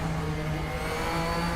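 The engine of a 2019 Porsche 911 RSR GTE race car in the RaceRoom game, racing at Suzuka, gives a loud, steady, high-pitched whine that holds at near-constant revs for a short stretch, with no talking.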